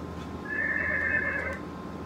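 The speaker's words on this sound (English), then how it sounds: "What's the sound of the horse?" A single horse whinny from a toy card-speaking machine rings out clearly for about a second, a bright wavering neigh over a faint background hum.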